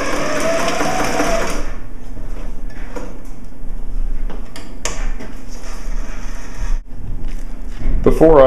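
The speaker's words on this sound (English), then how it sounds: "I'll start by sewing the 3D mesh and the nylon together inside out" A sewing machine joins 3D mesh and nylon fabric for a duffel bag, with a loud whirring run at the start followed by handling clatter and a second burst, and a voice is heard throughout.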